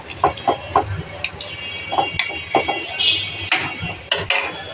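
A spoon stirs curry with a little broth in a pot, clinking and scraping against the metal in irregular close taps over a faint simmer.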